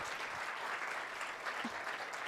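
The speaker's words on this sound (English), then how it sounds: "let's give a round of applause to our panelists today" Steady applause from an audience for a panel at a Canadian Club Toronto event fills the room, dense and even throughout without a break.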